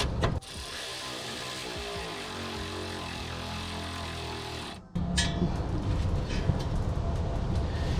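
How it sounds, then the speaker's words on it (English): A ratchet tightens a bolt on an aftermarket Y-pipe exhaust being installed on a Nissan 350Z, giving a close, steady run of rapid clicking that stops abruptly, then a rougher rustle of handling and tool noise follows. "I'm gonna go ahead and tighten that up really quick."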